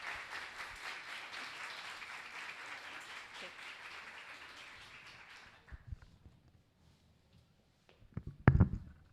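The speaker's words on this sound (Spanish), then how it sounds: "así que un fuerte aplauso para ella." An audience at a meteorology congress session in La Plata applauds a speaker, a sustained spread of clapping that dies away after about five seconds, leaving scattered handling noises and a brief voice.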